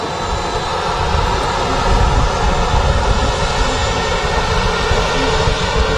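Jet engines of an EasyJet airliner at Manchester airport hold a loud, steady roar with a constant whine layered over a deep rumble, unbroken for the whole stretch.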